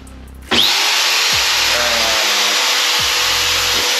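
A floor sanding machine roars to life after a brief low rumble, running loud and steady with a harsh whirring hiss as it grinds across the wood floor.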